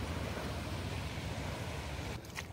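Rising tide water washing against the Rupnarayan river bank, a steady broadband rush of surf and wind noise filling the whole stretch, with a brief faint knock near the end and no talk.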